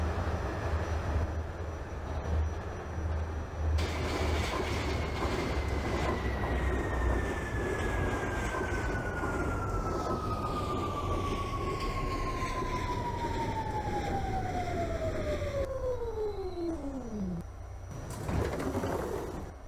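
An R46 C subway train runs on a World Trade Center bound route in the OpenBVE train simulator game, a steady loud rumble of wheels and motors with a long falling whine as it slows, continuous throughout.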